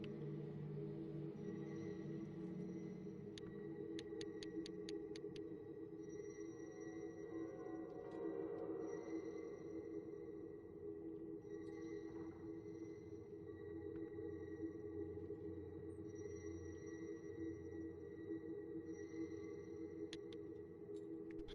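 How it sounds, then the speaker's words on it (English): The Mind's Eye ability in the video game The Sinking City gives off a sustained, eerie ringing drone with layered steady tones, overlaid with brief high clicking pulses at intervals, quiet and continuous throughout. "To see distortion in all corners and hear a ringing sound"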